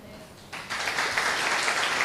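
An audience at a pastor's sermon breaks into applause about half a second in, rising quickly to a steady, fairly loud clatter of many hands.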